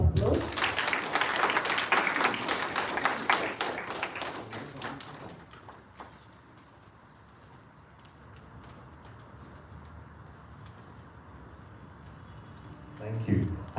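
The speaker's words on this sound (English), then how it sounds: "Let us warmly welcome him with a round of applause." An audience at a church gathering in North India bursts into applause, a dense burst of clapping that lasts about five seconds and then fades out, leaving quiet room tone before a voice begins at the end.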